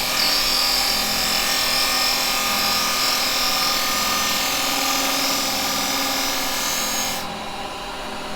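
Hollowing tool with a 6mm tip cutting wood on a spinning lathe, giving a steady, loud scraping rasp with a faint high whine that runs unbroken for about seven seconds before easing off slightly.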